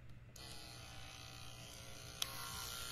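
Cordless barber hair clippers running steadily, giving a faint, even electric buzz with a low hum beneath and one small click partway through.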